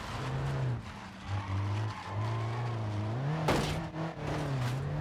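A car in the BeamNG.drive driving game skids as its rear end slides out, with steady engine drone and wavering tire squeal running continuously and loud, no talk over it.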